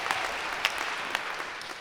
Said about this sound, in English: Martin deserves a round of applause too.